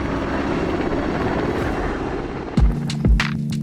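A rescue helicopter hovers over a mountain cable-car line during an evacuation exercise with its onboard hoist, giving a loud, steady rotor roar that is close and continuous, with two heavier thuds near the end.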